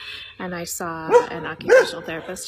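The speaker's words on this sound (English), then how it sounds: "that's my dog barking." A pet dog barks a couple of times in the background while someone talks over it, the barks rising briefly above her voice.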